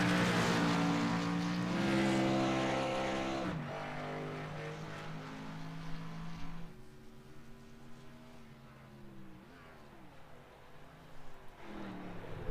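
A race car engine roaring in a burnout after winning the Pepsi 200 at Atlanta in a racing game, loud sustained droning that drops in pitch and level, then continues rougher and quieter with uneven revs.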